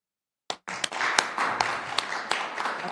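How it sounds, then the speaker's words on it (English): Audience applause at a Forest Grove city council meeting: after a brief silence, a crowd of hands breaks into steady, fairly loud clapping with distinct individual claps standing out. "Lots of applause tonight."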